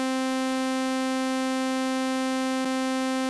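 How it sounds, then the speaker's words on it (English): A sawtooth patch in the Omnisphere software synth rings out as one continuous bright, buzzing note at even volume, with a tiny click partway through, before fading at the end; no other sounds. "And for comparison, here's the sound of Omnisphere Sawtooth."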